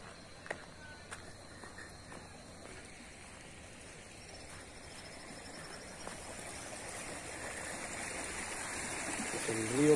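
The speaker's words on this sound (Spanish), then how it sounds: "Ya llegamos aquí al río Cañaveralejo." The Cañaveralejo river flows steadily outdoors, a soft continuous rushing wash with faint insect chirps, gradually growing louder toward the end, with occasional small knocks nearby.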